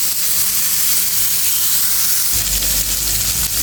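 Pointed gourd slices with skin frying in hot oil, a loud continuous sizzle and hiss that swells into a heavier, bubbling crackle partway through.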